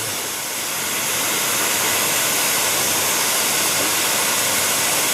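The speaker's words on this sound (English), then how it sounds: "you can see the steam is consistently being generated, and it's really that powerful" A Wendougee Space espresso machine's steam wand rushes out a strong, steady hiss that swells slightly at the start and then holds loud and even, close by, with nobody talking.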